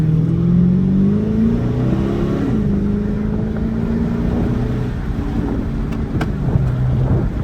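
A Dodge Charger Daytona R/T engine revs and accelerates hard, a loud, rising drone from close by with wind rushing over the microphone, and no talk over it.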